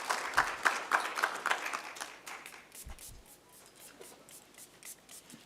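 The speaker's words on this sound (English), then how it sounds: "Another round of applause, ladies and gentlemen, for our chief guest" Applause at a conference on global security and Africa, for the chief guest: clapping that starts fairly loud and full, then thins and fades into scattered, softer claps after a few seconds.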